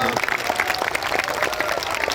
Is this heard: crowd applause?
yes